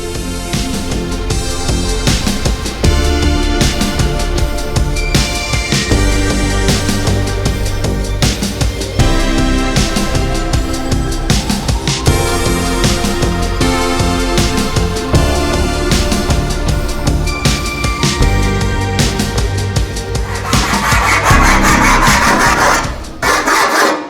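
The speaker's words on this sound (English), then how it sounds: "So I'll go and grab grinder or some snips, or both, and we'll get that cut." Sheet metal from a Ford Capri door skin is cut in a workshop, making a loud, continuous harsh rasping and grinding that runs steadily for about twenty seconds, with no voices.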